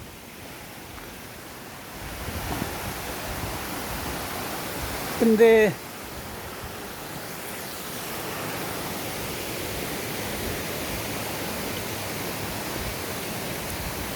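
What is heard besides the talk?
running water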